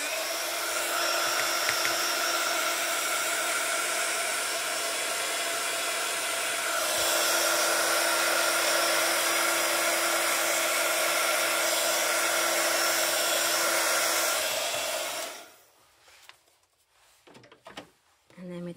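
Hair dryer blowing steadily close by to dry paint on a rubber-stamped butterfly coaster, a loud continuous whir with a tonal hum that shifts pitch slightly midway, then cuts off near the end leaving a few faint handling sounds.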